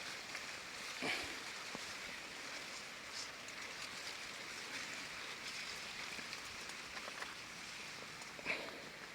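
Irrigation water flows along furrows in a sugarcane field, a faint, continuous trickling wash with a couple of tiny clicks and splashes.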